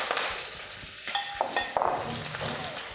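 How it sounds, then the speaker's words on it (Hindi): Cumin seeds and curry leaves crackle in hot oil, making a continuous close sizzle dotted with sharp pops and spits. "अब आप देख रहे हैं इसमें फटने की अच्छी सी आवाज़ आ रही है इन मसालों की।"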